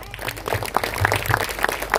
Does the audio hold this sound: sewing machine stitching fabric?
no